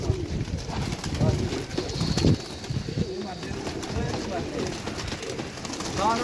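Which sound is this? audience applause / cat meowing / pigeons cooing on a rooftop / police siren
pigeons cooing on a rooftop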